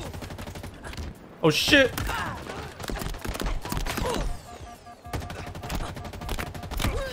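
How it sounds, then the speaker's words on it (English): Rapid gunfire from a recoiling gun in Halo Infinite, bursts of shots over game sounds, with a man exclaiming during the firing. "There's a good amount of recoil on this gun"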